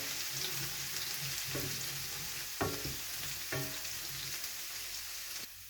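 Chilli garlic shrimp fry steadily in a hot pan, a continuous close sizzle broken by a few sharp stirring scrapes and clicks.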